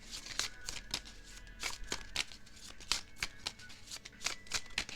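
Tarot cards being shuffled by hand, producing a close, steady run of crisp riffling slaps and flutters with no talking over them.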